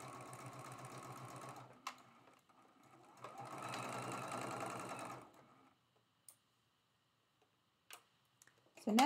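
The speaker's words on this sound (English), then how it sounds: "We'll flip it and sew it." A sewing machine stitches quilt block pieces in two steady whirring bursts with a fast mechanical ticking, then stops, leaving quiet gaps broken by small clicks and handling noises.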